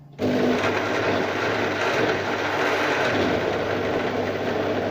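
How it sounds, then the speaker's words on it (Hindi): An electric grinder blends fresh mint chutney with a little added water, a loud, steady whirring motor drone that starts abruptly and runs continuously close by, with no talking. "और इसको ग्राइंड कर लेंगे।"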